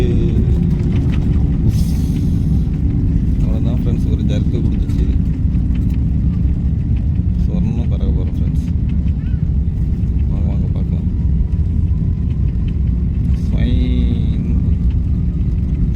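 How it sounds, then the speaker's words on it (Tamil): An airliner taking off on a flight from South Korea to India, heard from inside the cabin: a loud, steady low engine rumble fills the whole stretch, with people talking over it. "ஃப்ளைட் டேக் ஆஃப் ஆக போகுது"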